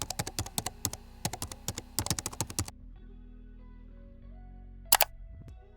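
Bursts of computer keyboard typing with quick, closely spaced keystrokes, a pause, then another run of keys, followed by a quiet stretch and a couple of sharp clicks near the end.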